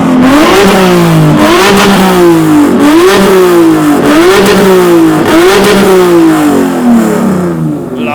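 A one-off Honda NSX supercar at a supercar weekend show is revved hard for a loudness test, its engine rising and falling in about six sharp, loud rev cycles that ring out close and alone.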